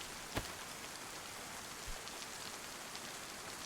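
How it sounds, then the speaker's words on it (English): Steady rain falls in a video game, a constant close hiss of downpour with a couple of sharper drop hits standing out. "I think I'm actually still getting rained on, even though technically the tree counts as cover."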